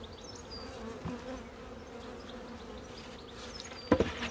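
Honeybees buzz softly and steadily inside an open beehive, a continuous low hum with faint higher whines of individual bees passing close, and a brief louder knock near the end.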